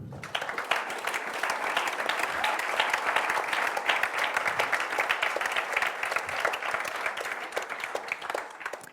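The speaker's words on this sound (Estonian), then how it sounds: "Teeme ühe suure aplausi." Audience at a student company award ceremony applauding steadily, a dense sustained clapping from many hands that holds at an even level throughout.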